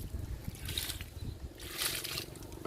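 Liquid fertilizer poured onto a large flowering hibiscus plant, making two soft, splashy bursts of trickling liquid close by, with a brief pause between them.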